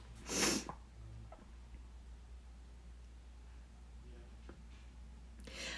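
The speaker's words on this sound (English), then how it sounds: "I'm going to sneeze." A single loud sneeze bursts out near the start, followed by quieter breathy sniffs and a brief snort near the end over a low steady hum, with no talking.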